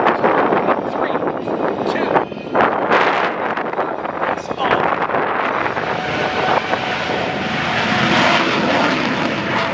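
An MX-2 aerobatic airplane races the Smoke and Thunder jet dragster at the Hillsboro Oregon airshow, a loud continuous engine roar mixed with wind buffeting and a commentator talking over it.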